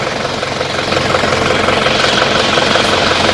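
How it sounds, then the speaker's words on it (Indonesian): An Isuzu Panther 2.5 diesel engine idles steadily just after starting, a close, even rattling clatter with a low rumble that holds constant and grows slightly louder after the first second, with no talking. "Nah, mesin hidup."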